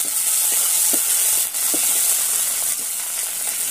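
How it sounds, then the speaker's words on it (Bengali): Ginger frying with turmeric in hot oil in a home kitchen pan gives a steady, close sizzle and hiss with a few faint stirring knocks, no talking. "দেখুন আদার উপর হলুদ দিয়ে দিলে আদাটা ভাজাও হয়ে যাবে আর ছিটকাবে না।"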